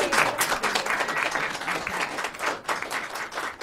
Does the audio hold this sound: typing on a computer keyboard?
no